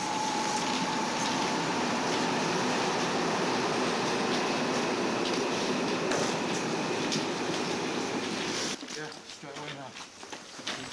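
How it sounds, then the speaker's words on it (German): A U-Bahn subway train rumbles steadily and loudly through a Berlin underground tunnel, approaching with a broad continuous roar that persists for most of the stretch before dropping off sharply near the end. "Plötzlich ein Geräusch. Eine U-Bahn naht."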